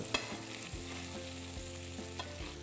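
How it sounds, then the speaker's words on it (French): Pieces of cod sizzling in foaming butter in a pan, a steady close hiss of frying with a few soft clicks and stirring touches, no voices. "je vais les mettre gentiment à colorer dans mon beurre mousseux"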